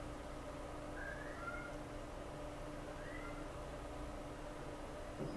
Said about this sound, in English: My cat is making a lot of noise for some reason.